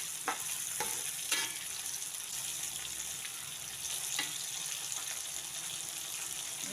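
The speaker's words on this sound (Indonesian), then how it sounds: "Ikan asinnya ini disangrai, digoreng dulu ya." Salted fish frying in a pan, a quiet steady sizzle and crackle with a few sharp pops and scrapes, heard close but at low volume.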